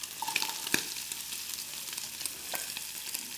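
Red onions hit a hot pan for Polish jajecznica, a close, steady sizzle with a couple of sharp clinks and stirring scrapes near the start, no speech.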